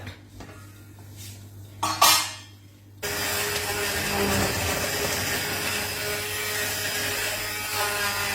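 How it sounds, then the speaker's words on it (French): A blender purées butternut squash soup. Some pot and utensil clatter comes first, then the motor starts at about three seconds with a loud, steady whirring roar that runs without a break to the end. "je prends le potage que je vais passer au mixeur."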